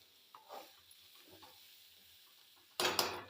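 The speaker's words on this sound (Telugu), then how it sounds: "కొబ్బరి వేసిన తర్వాత ఒకసారి కలిపేసుకోవాలి" Quiet scrapes and soft clinks of a spoon moving through tondakaya (ivy gourd) curry with coconut in a pan, a few faint stirring strokes followed by a louder burst of scraping near the end.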